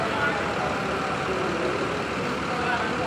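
Front-engined Mercedes-Benz OF 1623 bus with a Laksana SR3 Discovery body idles nearby, a steady low rumble with broadband roar filling the whole stretch without pause.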